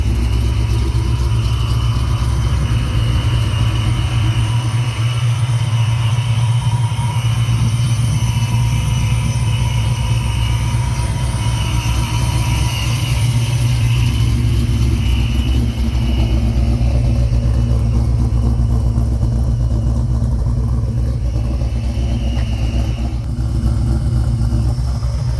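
Supercharged Fox-body muscle car engine running steadily, a loud continuous low rumble with mechanical whine heard up close as someone walks around the car.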